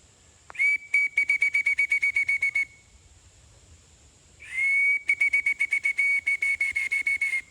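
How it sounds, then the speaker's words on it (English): A small handheld whistle blown to call an older, hard-of-hearing dog at an off-grid cabin: a long steady shrill tone, then a rapid run of about a dozen short pips, a pause, and the same long blast and pip pattern again, close and loud. "So I picked up a little whistle for us."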